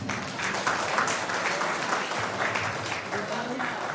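Steady, loud crowd clapping at a Birsa Munda 150th jayanti celebration, many hands applauding continuously with even intensity throughout.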